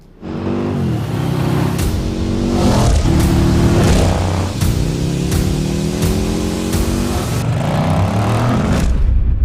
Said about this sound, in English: making a real revvy, racy American V-twin